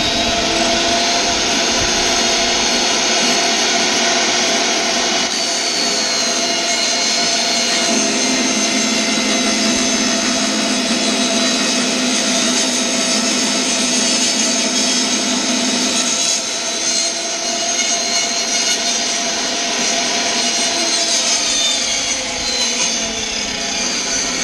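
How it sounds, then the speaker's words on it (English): A motor-driven saw blade cuts a board for a cross cut sled, giving a continuous loud, harsh whine and roar that holds steady close by, with the pitch shifting slightly as the cut proceeds. "That blade wouldn't be near as noisy if it was clean, the motor was cleaned out."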